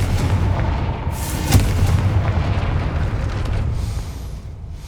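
A Confringo fire spell in the Hogwarts Legacy video game goes off as one sharp, booming blast. Heavy rumbling noise surrounds it and fades slowly afterward.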